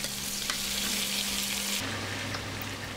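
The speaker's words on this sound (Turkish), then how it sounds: "Evet, patlıcanları da kızarttıktan sonra hemen biberleri ilave ediyorum. Biberleri de kızartıyorum." Peppers fry in oil in a pan after the eggplant, a dense continuous sizzle and crackle close up with occasional stirring, a low kitchen hum shifting partway through.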